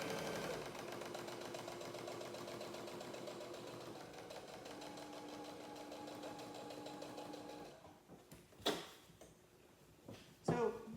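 A sewing machine stitching a quilt runs steadily with a fast mechanical whir for several seconds, then stops, followed by a couple of sharp clicks and knocks nearby.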